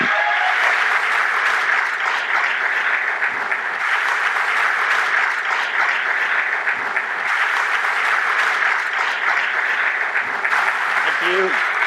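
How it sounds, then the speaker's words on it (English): Sustained audience applause at the XOXO festival 2013 before a talk by Tim Schafer of Double Fine, a dense, even clapping crowd filling the whole stretch with no pauses. "massive round of applause, Tim Schafer."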